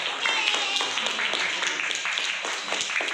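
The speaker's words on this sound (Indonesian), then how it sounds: "Tepuk tangan dulu untuk sulap" Scattered, moderately quiet clapping from a small group after a magic trick, with individual hand claps audible as uneven bursts over about three seconds and faint voices underneath.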